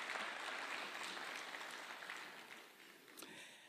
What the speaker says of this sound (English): Tupatie hawa majenzi a round of applause.